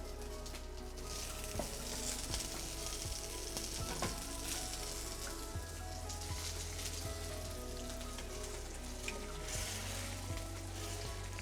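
Potatoes frying in hot vegetable oil give off a steady, close, continuous sizzle and crackle throughout, with faint background music underneath.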